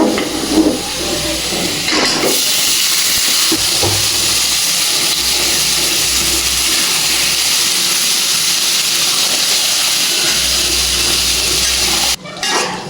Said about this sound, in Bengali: এখন আমি ভুঁড়িগুলো ঢেলে দিব।